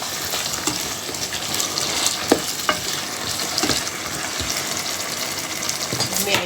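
Chopped garlic and ginger fry in a pan, stirred constantly: a steady, loud hiss of sizzling oil runs throughout, broken by occasional sharp scrapes and clicks of the spoon against the pan.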